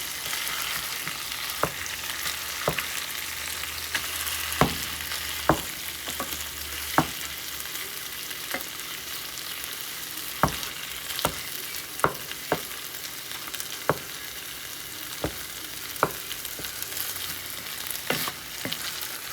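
Shrimp paste, bagoong or ginamos, frying steadily in a pan with a constant close sizzle, broken by sharp spatula scrapes and taps every second or two; no one talks.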